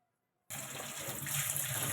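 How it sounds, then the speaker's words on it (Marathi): Water starts suddenly and runs steadily from a tap as hot water is drained off boiled potatoes and cold water is added, a close continuous rush with no voices. "बटाट्यांमधनं मी गरम पाणी काढून घेते आणि थंड पाणी त्यामध्ये ॲड करून बटाटा सोलून घेणार आहे"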